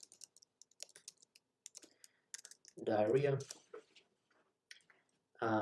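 Light computer keyboard clicks tap out a search query in quick irregular bursts, quiet and close, with someone briefly talking in the middle and starting again at the end.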